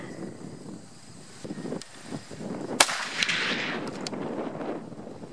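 A Remington 700 Ultimate muzzleloader fires a Federal 270-grain Trophy Copper bullet over a 130-grain powder charge outdoors: one sharp, loud blast with a rolling boom that fades over a couple of seconds, then light wind.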